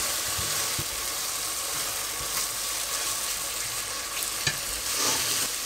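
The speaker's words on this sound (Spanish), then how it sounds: "damos unas vueltas, vamos a rehogar aquí un poquito, un par de minutitos" Food sautéing in a pan, hot oil giving a steady soft sizzle, with a few light scrapes and knocks as it is stirred; a fish and vegetable dish with black-eyed peas and clams, alone without talk.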